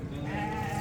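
A sheep bleats in a single sustained, wavering call at close range, loud and clear with no talk over it, as livestock is sold at a Moroccan market.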